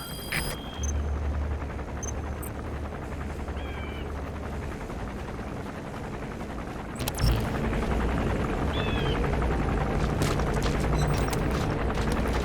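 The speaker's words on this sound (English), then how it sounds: "That's an enemy gunship." Enemy gunship helicopter in Metal Gear Solid V, a steady low rotor drone throughout with a sharp boom near the middle and a few faint electronic beeps and chirps over it.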